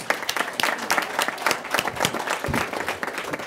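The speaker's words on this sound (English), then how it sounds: "Let's give Eric and his team a round of applause." A crowd at the Interstate 80–Yerba Buena Island westbound ramps project commencement ceremony applauds Eric and his team, outdoor clapping with distinct individual claps standing out in a lively, uneven patter.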